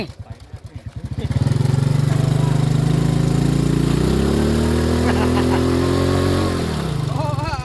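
A small motorcycle, a test ride after a sprocket change, revs hard and loud for several seconds, its engine tone climbing then falling, with people talking nearby.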